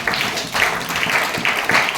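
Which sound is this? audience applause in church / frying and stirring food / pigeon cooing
audience applause in church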